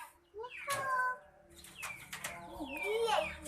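A bird gives a voice-like call that mimics a spoken Islamic greeting, with two short tonal, speech-like phrases heard close and clear.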